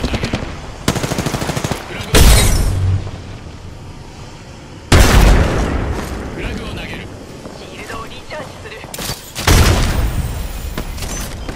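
An Arc Star grenade explodes in a shooter game amid heavy combat: rapid automatic fire rattles, and several loud, broad blasts with crackling tails stand out, followed by busy electric-sounding noise between them.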